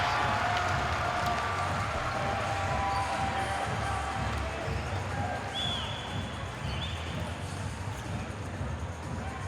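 Arena crowd at a Singapore Slingers basketball game during a timeout, a dense continuous roar and clapping that stays at moderate distance, with faint chatter mixed in.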